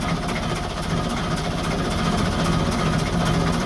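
A Perkins 4-107 marine diesel engine idles steadily after firing up on a boat that sat eight years in a boatyard, giving a continuous, loud low rumble with an even rapid pulse and no talking.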